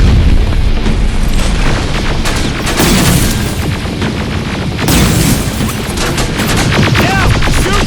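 Gunfire in a Terminator: Resistance battle against machines, dense continuous bursts of shots and booming impacts that fill the whole stretch at high loudness, with almost no talk.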